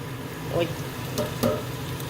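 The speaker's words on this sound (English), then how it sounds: "So at this time, I'm gonna go ahead and make a well in the middle. Add the egg." Egg cooking in a pan of see ew noodles over sauce, with soft sizzling and a few light stirring scrapes and taps, fairly quiet and steady throughout.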